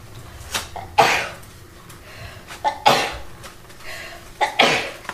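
A child at home on Christmas makes a few loud, close, sharp bursts that sound like sneezes or coughs, spaced about two seconds apart, with faint talk in the background.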